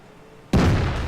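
A tank gun fires a high-explosive shell in World of Tanks, a single sudden deep boom that hits hard after a quiet moment and rolls on with a heavy rumbling tail.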